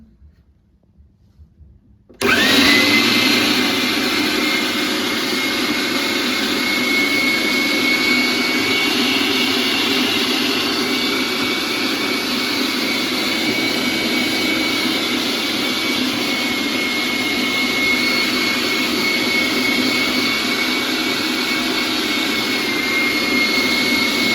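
A Zelmer ZMM3512B electric meat grinder fitted with a small mincing plate switches on after a brief quiet moment and runs with a loud, steady, high-pitched motor whine that holds unchanged to the end.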